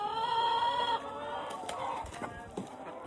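Chickens clucking and calling at close range while being handled and moved into a coop for spring pasture on a farm; a steady tonal call for the first second, then scattered clucks and rustling.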